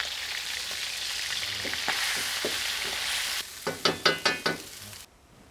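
Ground beef sautés in a pan with a steady close sizzle, joined by a run of sharp scraping strokes of a spatula near the end before the sound drops away.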